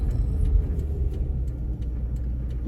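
A slow truck rolls along a road in front, heard from inside a car as a steady low rumble with a faint engine drone and no talk.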